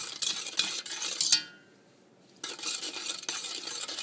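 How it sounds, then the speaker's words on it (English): Sugar being stirred into rice cake batter in a pot for Vietnamese steamed rice cakes, with steady scraping and clinking of a utensil against the pot, a short pause, then the close stirring starts again. "the goal of this is just to stir it until the sugar dissolves"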